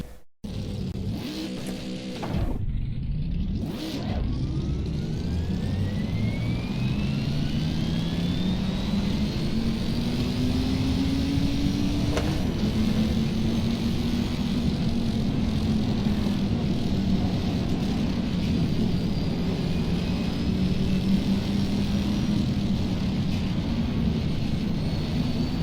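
A V8 race car circles the Daytona track in a racing video game, its engine droning loud and steady after a brief start-up burst, pitch slowly rising and falling over a long sustained pass, with no voices.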